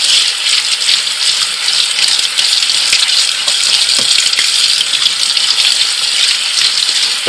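Tap water runs steadily over heirloom Straight Eight cucumber seeds as their slimy coating is rinsed off, making a continuous close hiss and splash that lasts the whole stretch with no voices.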